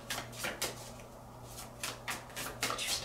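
Tarot cards being shuffled close up, in several short riffled bursts separated by brief pauses, with soft hand and card rustling between them.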